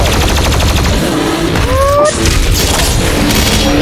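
Weapons fire in the video game Doom Eternal, a dense, loud barrage of rapid shots and blasts running unbroken throughout.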